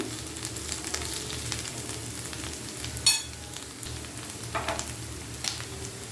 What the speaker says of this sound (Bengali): মরিচ পেঁয়াজ রসুনের সাথে আমি মাংসটা একটু ভেজে নিব